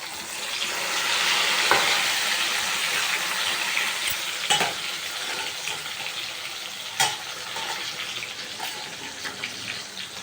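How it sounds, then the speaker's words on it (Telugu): Bitter gourd deep-frying in hot oil, a dense steady sizzle and crackle with occasional sharper pops from stirring, close and continuous throughout with no talk. "ఆయిల్లో బాగా డీప్ ఫ్రై అవ్వాలి ఇలా దగ్గరుండి వేయించుకోవాలి"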